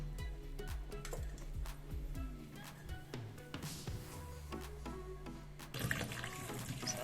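Tap water runs into a sink while Irish and sweet potatoes, skins on, are washed, giving a steady wash of flow with knocks and clunks of the potatoes against the basin and a louder surge near the end.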